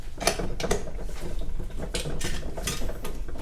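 Stand mixer with its whisk attachment turning in the bowl and wiping the sides, giving a steady mechanical whirr with repeated scraping ticks and clicks, close and fairly loud, with no talking.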